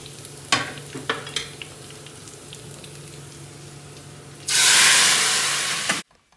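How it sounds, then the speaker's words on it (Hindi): Mixed chana and mash dal cooking in a pot: a few scattered spoon clicks and stirring knocks, then a sudden loud burst of sizzling for over a second before it cuts off. "बस अब दाल बना रही हूँ।"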